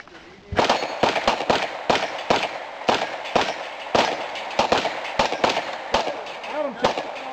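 Rapid rifle and pistol gunfire from several shooters at an outdoor plate shooting match in Brush Prairie, Washington, loud sharp cracks in quick irregular bursts, some overlapping, with metallic ringing from struck plates.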